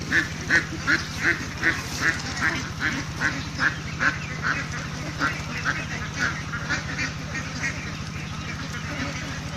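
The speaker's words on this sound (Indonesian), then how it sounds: "Tuh, bebek rame ini." A flock of meat ducks on a duck farm quacking busily in a steady, repeated chatter, with a low mechanical hum running underneath throughout.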